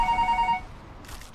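Telephone ringing: a short electronic ring tone of several quick repeated trills that stops, followed by a pause with faint rustling, then a new ring starting at the very end.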